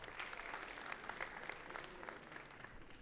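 Studio audience at a talk-show taping claps continuously, a full even roll of many hands that holds steady throughout before easing slightly toward the end, with no talk over it.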